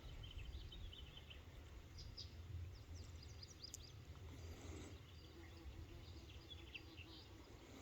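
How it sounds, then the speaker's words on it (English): A female pollen wasp (Pseudomasaris coquilletti) buzzes her wings near the ground outdoors, a steady low insect hum running throughout, with faint chirps of other insects or birds in the background. "The female is still down here, buzzing her wings"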